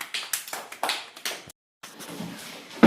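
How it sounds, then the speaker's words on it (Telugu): Children in a Telugu primary classroom clap in quick, uneven bursts of sharp slaps that fade after a second and a half. A short silence follows, then faint room noise. "క్లాప్స్."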